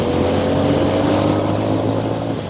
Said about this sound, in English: That means I can shift through the gears, wide open throttle without using the clutch.